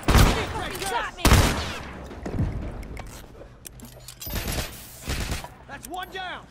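Gunfire from The Last of Us Factions multiplayer, sharp bursts of shots near the start and again around the middle, with shouted talk between players over the fighting.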